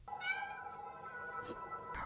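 A house cat meows near a television, giving one drawn-out, fairly clear meow with a short extra cry at the end, heard alone against quiet background.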